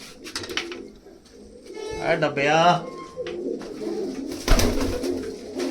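Pigeons coo in a loft, soft throaty coos rising and falling close by while someone speaks briefly over them and other rustling and knocks sound around.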